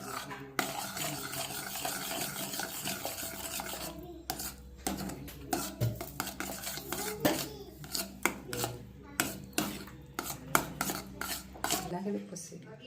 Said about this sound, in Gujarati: હવે આને અગેન આપણે મિક્સ કરી દઈશું.